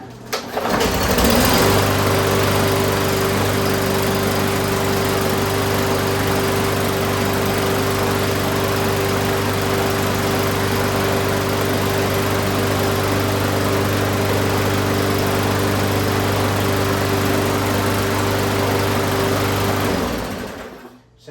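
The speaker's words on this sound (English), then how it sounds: "let's just try to fire her up and see how she sounds" A Toro lawn mower engine starts up and settles into a steady, loud running drone that holds evenly for about twenty seconds before cutting off, with no talking.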